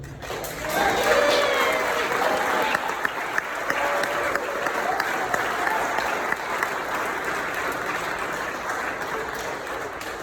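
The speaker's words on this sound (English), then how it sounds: "I would like to have a round of applause" An audience breaks into sustained applause, dense clapping rising quickly and holding steady at a moderate level for several seconds with a few voices mixed in.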